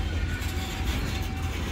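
Florida East Coast Railway freight rock train passing nearby, a steady broadband rumble of wheels and rail noise with a faint tonal hum, continuous and fairly loud throughout.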